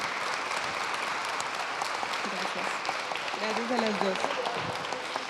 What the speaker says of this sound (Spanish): vamos a despedirlas con el mismo caluroso aplauso con el que empezó.